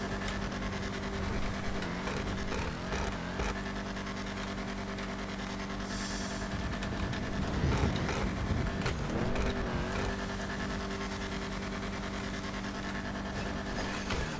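Dominator GT car from GTA driving on snow-covered roads around Chiliad, a steady engine drone with shifting revs and occasional tire slips and bumps, fairly quiet throughout with no speech.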